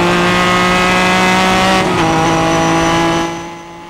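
A Ferrari 246S Dino race car's engine drones loud and steady from on board at Goodwood Revival, shifts pitch partway through, then fades as the throttle lifts.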